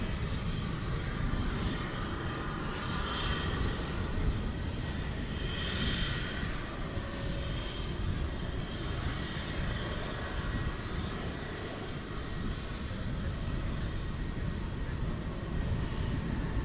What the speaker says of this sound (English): This is a 787 Dreamliner, getting ready to take off to Paris